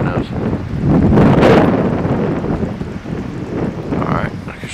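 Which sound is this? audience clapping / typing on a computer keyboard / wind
wind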